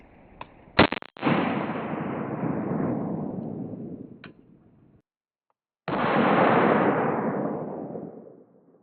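A pistol fires a 230-grain Remington .45 ACP ball round at a tactical ballistic helmet, a sharp nearby report followed by a long, loud decaying rumble, then a second burst of heavy boom and roar fading out.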